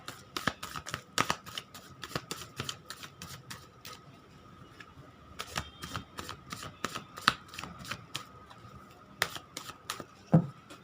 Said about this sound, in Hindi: कार्ड आपके सामने मैं एक बार सफल कर लेती हूँ।